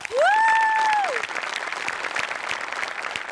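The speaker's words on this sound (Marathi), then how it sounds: "सगळ्यात आधी अमोल पाटलांसाठी जोरदार टाळ्या" Loud applause from a Marathi comedy show studio audience for performer Amol Patil, a sustained burst of clapping with a bright musical sting over its first second, then steady crowd clapping.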